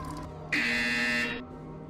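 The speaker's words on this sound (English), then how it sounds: "When you hear the buzzer, turn around and face the server farm behind you." A single loud electronic buzzer from the Portal Stories VR video game sounds for about a second, a harsh steady tone over a low background hum.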